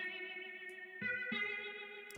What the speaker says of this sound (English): all I did was I added guitar rig, the rotating preset, and some reverb